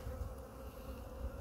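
Honey bees from a seven-frame hive during a February queen check, a faint, steady, continuous hum with no voices.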